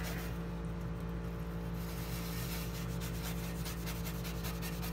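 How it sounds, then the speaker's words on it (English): Stainless steel wire brush scrubbing rust off a metal surface, steady close rasping strokes over a constant low mechanical hum, with no voices. "the stainless steel brush is getting the rust up off the surface"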